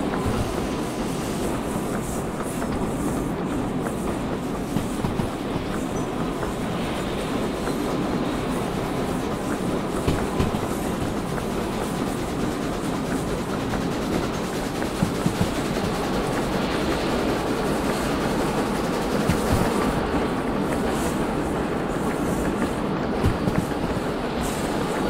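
Steam train wheels clatter and roll on rails in a VR video game, a loud, continuous rumble with faint rhythmic clicks, steady throughout with no voices.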